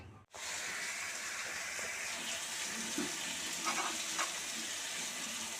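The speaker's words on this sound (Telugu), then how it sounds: "మూత పెట్టుకొని మరి మనం కాసేపు ఉడికించుకుందాం" Crab curry cooking under a lid in a pot, a steady low hiss and faint bubbling that holds at an even level throughout, with no speech.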